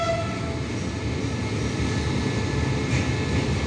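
Steady rumbling roar of a long container freight train rolling past at close range, continuous wheel and wagon noise with no voices.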